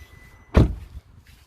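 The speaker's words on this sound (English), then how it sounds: "Shut the door." A single solid thunk of a 2009 Nissan Maxima door being shut, close and fairly loud, with a brief rattle after it and quiet around it.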